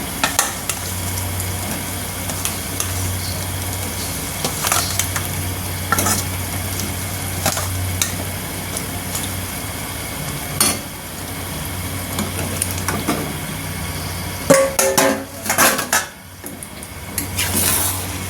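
Lightly pre-fried chicken pieces sizzle in a pan with hand-ground spice masala for chicken kasha, a steady fry under repeated scraping stirs and clinks of the spoon against the pot.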